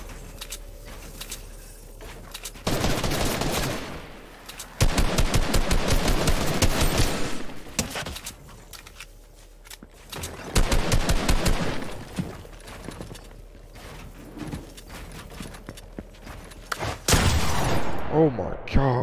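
Bursts of rapid automatic gunfire from a 1v1 video game match come in several loud volleys separated by brief pauses, close and punchy, with excited voices talking over parts of it.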